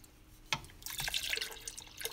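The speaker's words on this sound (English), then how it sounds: "he's going to go ahead and put the tomato juice in there" Tomato juice poured into a pot of homemade vegetable soup, a soft close splash followed by a brief, gentle liquid trickle and gurgle, quiet and without talk.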